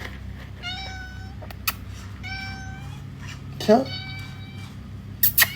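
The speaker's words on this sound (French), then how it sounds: "Il est trop mignon ce petit chat." A small cat mews several times with thin, high, drawn-out cries over a low steady background hum, close to the listener, while a person speaks French softly between the meows.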